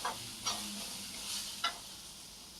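Tomatoes and salt being stirred in a pan for anda rassa egg curry, soft sizzling with two or three brief scraping strokes of a spoon, close but faint.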